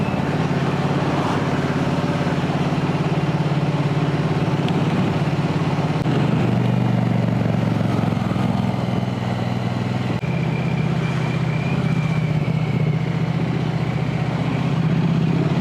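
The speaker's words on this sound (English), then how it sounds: "Nice little bit of rumble from the engine." A steady low motorcycle engine rumble idles continuously, with a slight shift in pitch midway, close by and without speech.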